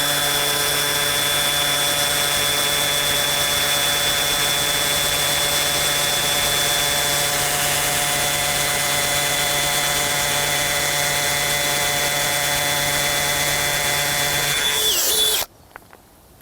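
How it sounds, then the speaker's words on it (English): An 8–10 mm drill bit bores a hole through a plant pot holding a potted tree, the power drill whining at a steady high pitch for about fifteen seconds before cutting out abruptly. "Use an 8 or 10mm drill bit."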